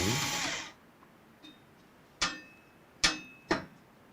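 A screwdriver works screws on a Lian Li A3 PC case: a short burst of hiss, then three sharp, close metallic clicks spaced irregularly in a quiet room.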